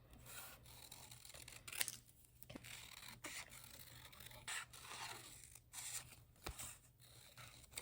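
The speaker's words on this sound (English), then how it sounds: "Gonna cut around them, always cutting in a heart shape or a heart outline" Scissors snip around watercolor paper hearts in a series of close, crisp cuts and scrapes, each sharp blade snap separated by soft rustling of the paper, with no talking.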